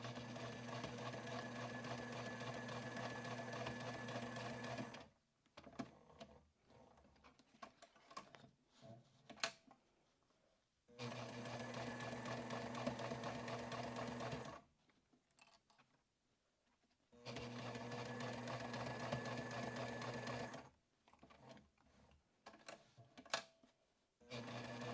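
Sewing machine running in three long continuous stitching bursts on a sling pocket, each several seconds of steady mechanical whirring, separated by quiet gaps with handling clicks and rustles. The level is faint overall.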